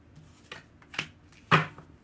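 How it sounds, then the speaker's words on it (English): Tarot cards are shuffled in a few quick, crisp riffling bursts, the last one loudest, close up and quiet in between, with no talking. "Let's get a shuffle on that and grab one more."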